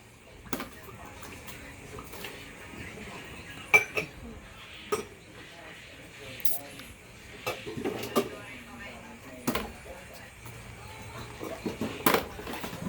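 Pots and dishes clink and clatter intermittently in a sink, with sharp knocks between quieter rattling, while voices talk softly nearby.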